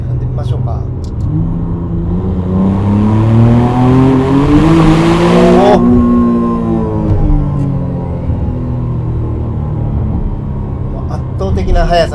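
A 2025 McLaren Artura engine revs up hard on a Tokyo street, the pitch rising steadily and loud, then easing back to a lower drone. The car sound stays close and continuous while someone talks over it.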